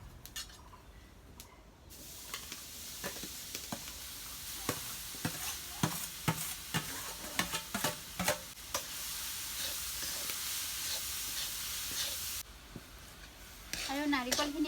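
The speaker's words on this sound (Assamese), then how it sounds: "আৰু নাৰিকলখিনি এনেকৈ ভাজি লৈ লওঁ 5 মিনিটমান।" Grated coconut frying in a hot wok (kadai) for coconut laddu, with a steady sizzle and repeated stirring and scraping strokes close by, then quieter, with no talk.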